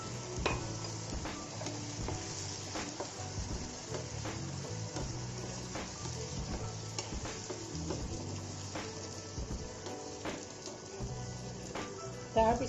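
Homemade tomato puree added to a pan over ginger-garlic paste for dhaba-style chicken bharta, sizzling steadily while a spoon stirs it in repeated scraping strokes, close and moderately loud with no talk.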